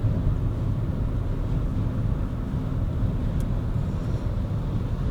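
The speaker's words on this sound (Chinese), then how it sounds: "我如果现在驾差不多100 km/h， 我们来听看下它的这个轮胎噪音" Steady broadband road roar inside a Leapmotor B10 cruising at about 100 km/h on Linglong Comfort Sport tyres, a continuous low rumble with wind noise layered on top and no talking.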